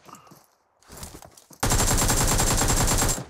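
Rapid bursts of automatic gunfire in a video game, loud and close, start after a quiet stretch with faint movement sounds and then run as one continuous volley for about a second and a half.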